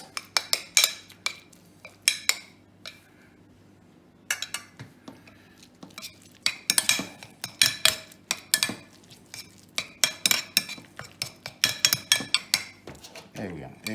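Two spoons scrape and clink against a dish while scooping a vegetable mix into an eggplant for stuffed baked vegetables, giving a run of close, irregular metallic taps and scrapes with short pauses between them.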